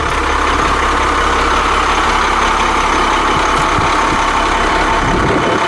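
Turbo 8.3 Cummins diesel in a 40 ft Class A diesel pusher RV idling, a steady low rumbling engine drone with even texture, close by and continuous.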